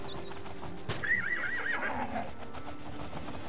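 A horse in the video game Oblivion gives a clear, close whinny over steady clip-clopping hooves, with no talking.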